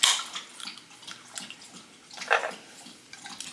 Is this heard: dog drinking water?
yes